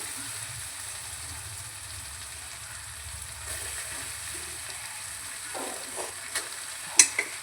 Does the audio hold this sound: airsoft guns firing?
no